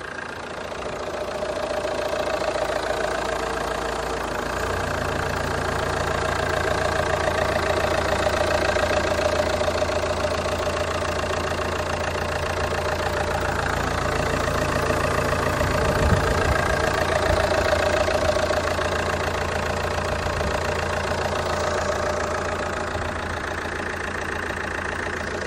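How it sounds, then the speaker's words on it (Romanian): A cold 2.0 Euro 5 diesel engine in an Opel Insignia idles steadily and close by, a continuous low rumble with a faint clattering knock, with no voices over it. "mi se pare că e cât de cât silențios și sună un diesel Euro 5 cât de cât rafinat"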